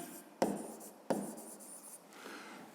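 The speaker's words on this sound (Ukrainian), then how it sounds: "Пишемо." A pen writes on paper, with two quick taps as the tip lands, each followed by a soft, steady scratching stroke; it is close and quiet, with no voices.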